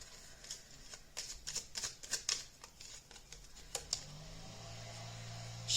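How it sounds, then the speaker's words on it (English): Forest Fae Oracle cards being shuffled, a run of quick riffling, flicking bursts up close, followed by a quieter pause with a low hum beneath. "We're going to get some cards from the Forest Fae Oracle."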